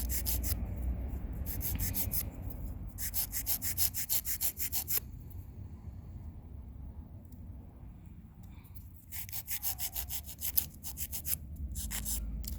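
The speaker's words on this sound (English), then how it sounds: "This little tab will come right off with filing." File rasping across a nail wrap tab on a fingernail, close repeated back-and-forth scratching strokes in several bursts separated by quieter pauses.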